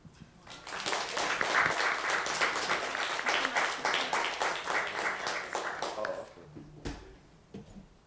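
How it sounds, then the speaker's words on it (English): Audience at a keynote event in Montréal breaks into sustained applause, dense clapping swelling quickly and holding steady for several seconds before thinning out and fading. "Give a round of applause."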